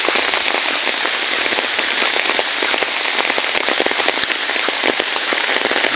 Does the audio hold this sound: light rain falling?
yes